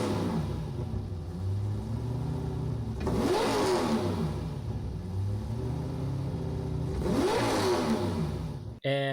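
A modified van race car engine in Gran Turismo 7 drones at steady speed, then revs up twice in rising, sweeping bursts, loud and close, with a short distorted blip right at the end.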